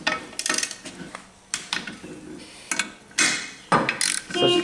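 A wrench ratchets in short clicking bursts while bolts are tightened on a torque converter clutch housing during assembly, with metallic clatter and uneven pauses between strokes at close range.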